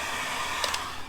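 Heat gun blowing on a BMW F10 M-Sport front bumper lip to soften it, a steady close airy whoosh with a couple of faint clicks and no talking.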